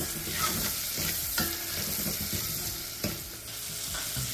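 Onions fry and sizzle in a pan for South Indian sambhar, a steady hiss broken by a few scraping stirs, close and fairly loud with no talking.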